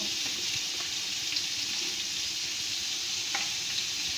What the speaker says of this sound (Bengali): ক্যাপসিকামগুলোকেও হালকা করে ভেজে নেব।